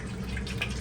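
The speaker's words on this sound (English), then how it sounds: "I'm just going to pour some water in here." Hot water poured into a Ninja Foodi Grill for cleaning, a steady close splashing trickle with faint dripping over a low hum, without speech.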